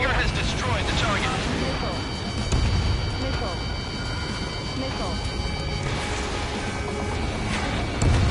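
Missile explosions and jet combat in the Ace Combat 7 flight game, booming blasts and roaring engines layered under radio chatter from pilots, dense and loud throughout with sharp impacts.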